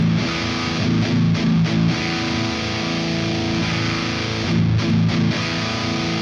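Distorted electric guitar chords with a shred-style spread and post EQ from an amp sim, several strums ringing out thick and wide, loud and continuous with no voices.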